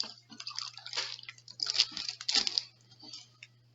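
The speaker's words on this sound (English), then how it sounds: "if I pour it into my cup again, carefully" Oobleck, a thick cornstarch-and-water slime, slides from a bag into a cup with soft wet drips, squishes and patters in quiet close-up, no talking.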